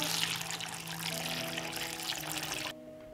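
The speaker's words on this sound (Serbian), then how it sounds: "Sipam vodu do visine poklopca." Water pours steadily into a metal pot holding jars on a cloth, up to lid height, in a continuous splashing rush, then cuts off abruptly near the end, leaving a faint hum.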